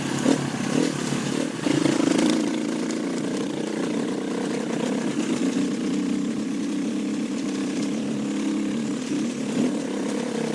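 A KTM 350 dirt bike climbs at about 8,000 feet, its engine holding a steady, moderately loud drone with a rougher surge near the start, heard without talk.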